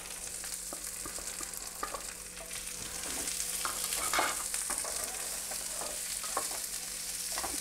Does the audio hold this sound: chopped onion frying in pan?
yes